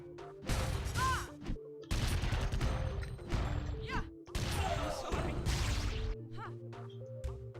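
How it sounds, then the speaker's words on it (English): Shotgun blasts from the side-scrolling action game Iji, several loud bursts in quick succession over a steady game music drone, with crashing impacts and brief gaps between volleys. "the shotgun just isn't good for killing things."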